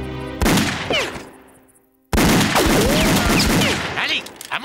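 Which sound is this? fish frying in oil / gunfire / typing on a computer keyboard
gunfire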